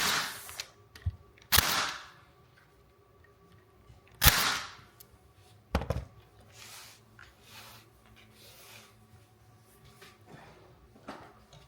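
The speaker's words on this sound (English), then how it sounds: "shoot some more staples" A staple gun drives staples into a wooden backing board during appliqué work: several sharp, snappy shots at irregular intervals, close and distinct, with quiet handling sounds between them.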